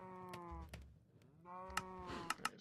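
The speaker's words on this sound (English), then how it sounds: "Bro, these cows." Several cows in a Minecraft-style multiplayer survival game moo in a series of drawn-out, nasal lowing calls with short gaps between them, up close, with a few sharp clicks in between.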